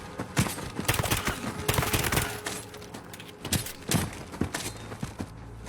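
Rapid bursts of gunfire in a Call of Duty: Modern Warfare (2019) firefight crack in dense, loud volleys, with dozens of overlapping shots and scattered single reports close by.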